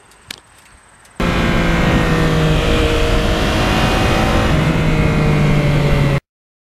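A Yamaha MT-09 motorcycle fitted with lowered forks, ridden hard; its engine bursts in loud and close after a quiet second, holding a steady, throaty drone with shifting pitch to the end.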